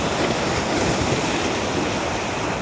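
Ocean waves wash onto a beach at a resort in Naic, Cavite, a steady, full roar of surf close by with no break and no voices.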